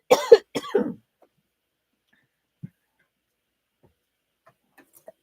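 Two quick, close coughs at the start, followed by near silence with a faint tap or two.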